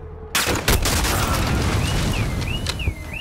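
An M4A1 grenade launcher fires in Call of Duty: Modern Warfare, a sudden loud thump and blast bursting out of near silence, followed by rolling rumble, debris and a few sharp cracks.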